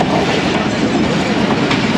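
Pakistan Railways trains 6401 and 6402 pass on the Narowal branch line with a loud, close, continuous rush of rolling wheels and carriages, no voices.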